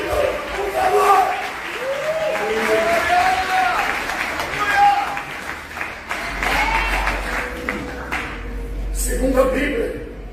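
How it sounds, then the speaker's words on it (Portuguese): A church congregation claps together in a worship service, sustained applause mixed with voices and shouts in a reverberant hall, a loud crowd roar that rises and falls throughout. "Quem entendeu a palavra, aplauda Jesus Cristo, por favor."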